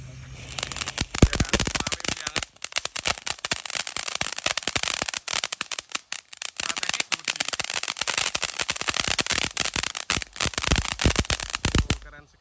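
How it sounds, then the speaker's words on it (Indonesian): A Beauty Flower fountain firework sprays and crackles nonstop during a Ramadan night fireworks session, a dense fizzing shower of sharp pops close by that cuts off abruptly at the end. "Selanjutnya kita nyalakan ini mercon air mancur Beauty Flower."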